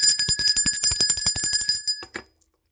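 A bell rings in rapid repeated strikes for about two seconds, bright and close, then stops and the last tones fade quickly.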